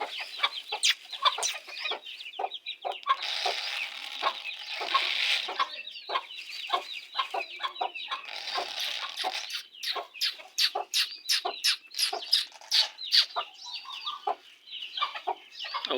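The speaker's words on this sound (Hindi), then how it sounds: "ये हमारे छोटे चिक्स।" Small chicks chirp and peep in a rapid, high-pitched, overlapping chorus close by, with sharp repeated cheeps continuing throughout.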